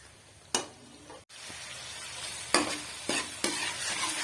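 Ginger and garlic frying in a pan as the base for a fish curry: a steady close sizzle broken by several sharp scraping stirs, with no talking.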